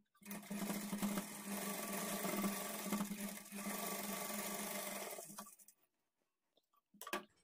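A sewing machine runs a steady edge stitch along folded blouse fabric, a continuous close whir for about five seconds before it stops, then a couple of brief handling clicks.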